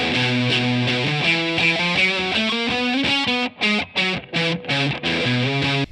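A distorted electric guitar plays a gritty melodic phrase, then finishes with a run of short, choppy chords separated by brief gaps.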